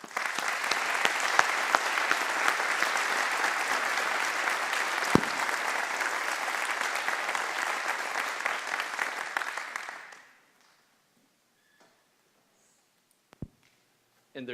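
An audience at a WELS band festival applauds with loud, sustained clapping for about ten seconds, then stops abruptly, leaving near silence with a few small knocks.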